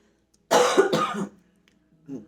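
A single throat clearing, two rough bursts close together, followed after a pause by a short low grunt.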